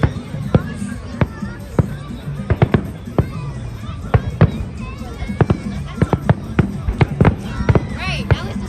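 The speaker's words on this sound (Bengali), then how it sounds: "এখন কি দেখো ফায়ার ওয়ার্ক ও শেষ ফিনিশিং দিতেছে" An Australia Day fireworks finale bursts in rapid, loud bangs and crackles close by, with crowd chatter and people talking underneath throughout.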